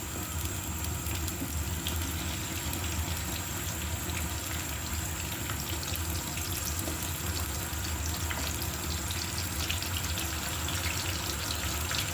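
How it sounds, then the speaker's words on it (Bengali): Chicken pieces frying in oil, a dense, even crackling sizzle holding steady at close range for the whole stretch, with no voices. "এবার আমি চিকেনগুলোকে ভেজে নিব।"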